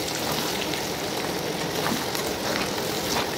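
Chicken scraps sizzle and crackle in hot oil as they are stirred in a pan, a steady dense frying hiss held close and fairly loud throughout, with no voices.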